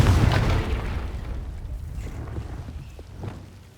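A Confringo spell in Hogwarts Legacy explodes with a loud booming burst at the start, then a rumbling tail fades into wind-like noise with a few faint crackles.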